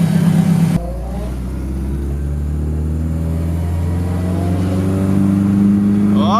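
A Nissan 240sx S14 notchtop with an SR20 VVL engine runs during tuning, a loud close engine note that drops off then climbs steadily in pitch as it revs up, with no talk over it.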